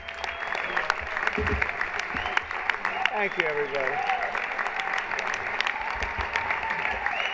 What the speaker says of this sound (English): everyone else is standing and clapping for him